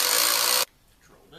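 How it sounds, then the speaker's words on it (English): A handheld power drill bores a hole during model railroad track construction, a loud steady whir for about half a second that cuts off abruptly into quiet. "Drill this hole."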